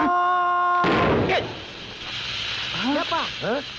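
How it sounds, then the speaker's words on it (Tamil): A bus tire blows out with a sudden loud bang after a steady tone, followed by a rushing rumble and a few rising-falling whistly calls. "கீழே டயர் போயிடுச்சுடா"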